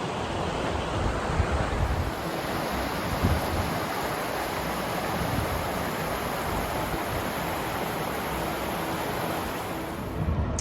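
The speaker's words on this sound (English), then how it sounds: "The water going down the river from the Bridal Veil Falls looks real clean and crisp" River water from Bridal Veil Falls in Yosemite rushes past, a loud steady broadband roar of flowing water with wind buffeting the microphone, continuous with no voices.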